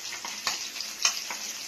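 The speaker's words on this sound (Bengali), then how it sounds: "দেখো, ডিম ভাজছি" Eggs frying in a pan, a soft close sizzle with a few faint clicks and pops, brief and quiet.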